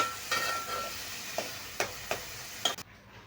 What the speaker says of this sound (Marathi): आलं लसूणची पेस्ट टाकूया। ती पण छान मिक्स करून घेऊया।